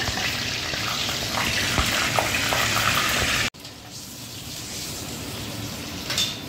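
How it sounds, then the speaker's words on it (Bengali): Nigella seeds hitting hot oil in a wok give a loud, steady sizzle that breaks off suddenly and resumes as a softer, continuous frying hiss. "আর এক কড়াইয়ে এই যে কালি জিরা দিয়ে দিলাম সম্বার"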